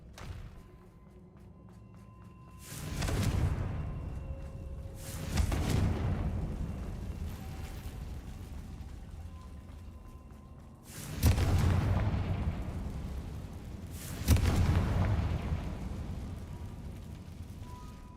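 Four heavy blasting-spell explosions from the Confringo spell in Hogwarts Legacy, each a deep booming burst with a rumbling tail, spaced a few seconds apart over quiet game ambience.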